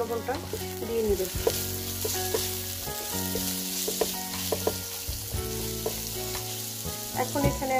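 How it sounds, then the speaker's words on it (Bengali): Sliced onions fry in oil in a pan for a Bengali-style salmon fish head curry with potato and eggplant, a continuous sizzle running beneath melodic background music, with no speech. "পেঁয়াজটাকে আমি 2-3 মিনিট ভালো করে ভেজে নিয়েছি।"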